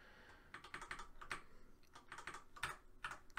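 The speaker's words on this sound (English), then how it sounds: "I can type in whatever I want here" Rapid keystrokes on a computer keyboard come in quick irregular bursts with brief pauses, close and crisp in a quiet room.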